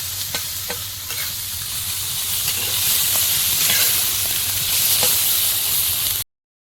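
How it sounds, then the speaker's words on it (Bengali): Small fish fry with chopped onion and chili in a pan, giving a steady close sizzle with light stirring clicks throughout and no voices. "ভাজার মধ্যে একটু পেঁয়াজ কুচি আর লঙ্কা দেবো ভাজা মাছটা বেশ আরও টেস্টি হবে"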